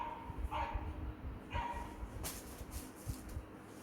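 A voice imitates a dog barking, giving a few short playful woof-like bursts in a quiet indoor room.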